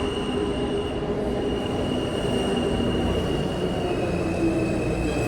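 An M subway train rumbles loudly through the 47-50 Streets-Rockefeller Center station in New York with a continuous metallic squeal of wheels on rails, close and steady.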